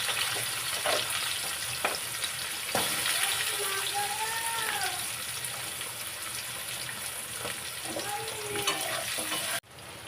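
Cumin seeds and potatoes sizzle in hot oil in a pan as the base for a Bengali rohu fish curry with papaya, a steady close frying hiss with faint clinks, ending in a sudden brief dip.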